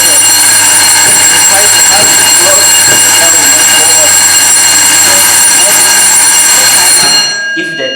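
A student-built door security alarm bell rings continuously and loudly for about seven seconds with a steady, piercing electric tone, then cuts off abruptly, leaving brief quiet.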